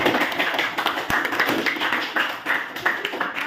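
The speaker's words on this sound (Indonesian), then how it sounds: "Berikan tepuk tangan dulu buat Tuan" Classroom applause for a student during a teaching practice lesson: a group of pupils clap together in a steady, busy patter that holds at moderate loudness for several seconds.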